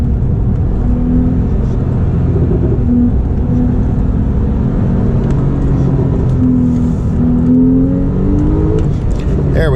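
A Porsche 911 991.2 with a turbocharged flat-six engine revs steadily while held in gear, a continuous loud drone with rising and falling pitch sweeps throughout, heard from inside the car.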